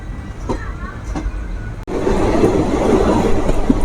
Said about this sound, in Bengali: আমাদের ট্রেন এখন গোসাইগ্রামের উদ্দেশ্যে রওনা দিচ্ছে